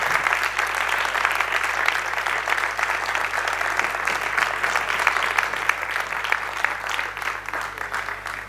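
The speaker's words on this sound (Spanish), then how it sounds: "Un aplauso para vosotros." An audience at a talk on the future of work applauds, producing dense, steady clapping that holds for several seconds at a constant level.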